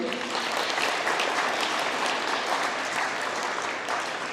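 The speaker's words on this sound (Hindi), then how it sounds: "अब देखिए कितना अच्छा जोरदार ताली इस बिटिया की" An audience gives a girl singer dense, sustained applause, many hands clapping together at an even loud level throughout, with no clear voices.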